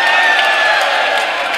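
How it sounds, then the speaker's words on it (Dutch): A crowd at an Oktoberfest celebration in the Netherlands cheering and applauding, a dense continuous roar of clapping and whoops heard up close and loud. "Applaus voor Yolanda."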